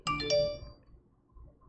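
A phone gives a short two-note chime, bright ringing tones that decay quickly, followed by faint low background rustle.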